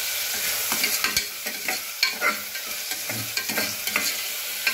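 Onion is stirred and fried in hot oil for a village-style goat mutton curry, with a continuous sizzle and irregular scraping, clattering strokes of a spoon against the pan.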